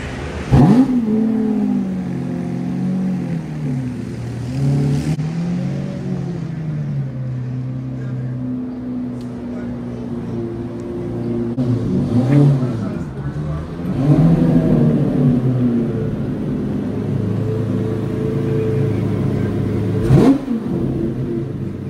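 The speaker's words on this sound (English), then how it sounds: "Driving around with the doors up." A modified dream car drives around with its doors up, its engine humming steadily and rising in a couple of revving surges, close and fairly loud throughout with a brief sharp thump near the end.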